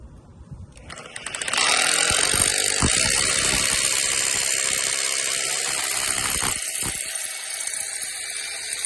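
A Bosch hammer drill with a half-inch bit bores into a foundation block wall, spinning up after a second into a loud, rapid rattling grind that holds steady with small surges and stays close, without voices.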